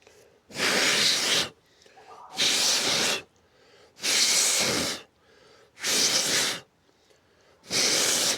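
Bursts of compressed air blown onto a motorcycle oil screen during a Scrambler 400X oil change, five loud hissing blasts of about a second each, spaced evenly with brief quiet gaps between.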